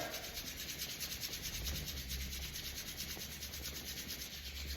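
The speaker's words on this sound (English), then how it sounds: "We're going to rub a bit faster. We're going to apply a bit of pressure." Two palms rubbed briskly together under firm pressure during a warm-up, a steady close dry swishing friction that runs continuously without pause and with no talking.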